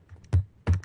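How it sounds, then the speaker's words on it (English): Two hard thumps come from a computer keyboard being banged on, each a close, heavy clack about a third of a second apart, with faint lighter key taps between them. "I'm smashing my computer keyboard"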